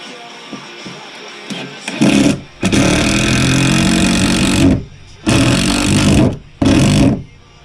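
A power drill drives long 3-inch screws into wood for a rustic end table, whirring in several loud bursts of a few seconds each, separated by brief pauses.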